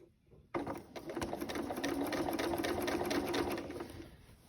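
A sewing machine runs a continuous stitching burst on fabric for a Fibremood Lauren top, starting abruptly after a quiet moment and humming steadily and close with a fast rhythmic whir, with no talking.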